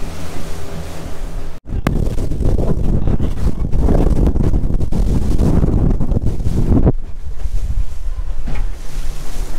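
Strong wind at Barwon Heads beach roars and buffets a nearby microphone, a loud continuous rush with heavy low rumble mixed with surf and brief dips in the gusts, no voices.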